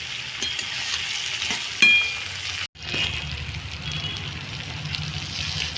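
Continuous sizzle and crackle of giant prawn claws frying in oil, with a brief clink and a short pause before the frying resumes.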